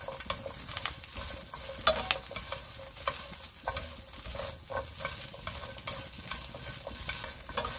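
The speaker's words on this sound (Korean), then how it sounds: "지금 이 후라이팬에 기름이 조금 남아있을 때 햄을 넣으세요" Ham sizzling and frying in a little leftover oil in a frying pan after carrots, with steady crackling sizzle and repeated sharp scraping stirs of a utensil against the pan, close and alone.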